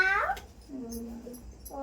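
A cat gives a short, bright meow, then a longer drawn-out lower meow, and starts another at the end, close and fairly faint with quiet gaps between.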